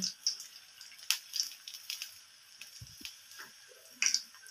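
Pakoras fry in hot oil while a slotted spoon lifts them out; close, quiet crackling is broken by scattered sharp metallic clicks and taps.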